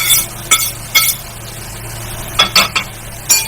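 A metal spoon stirring bitter gourd into fried potatoes in a pan, sharp clinks and scrapes in irregular bursts, close and loud, with no talk.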